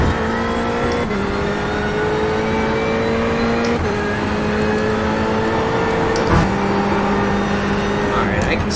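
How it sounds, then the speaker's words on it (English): Steady engine drone of GT race cars running continuously at Daytona in a racing video game, with pitch shifting as gears change, under faint background talk. "I can still hear the cars."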